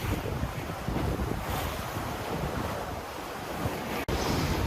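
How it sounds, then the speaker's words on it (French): Waves and wind surround a Pogo 30 racing yacht sailing at night on an ocean crossing, a steady rushing wash of surf and wind noise with no voices and a brief dropout near the end. "Ambiance de navigation nocturne."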